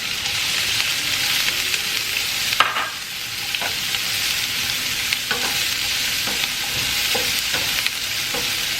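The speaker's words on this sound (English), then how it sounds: "I'm going to cook my garlic, my onion," Garlic, onion and jalapeno fry in a pan for stuffed bell peppers, a loud, unbroken hiss of oil with intermittent spatula scrapes and taps, heard up close without talking.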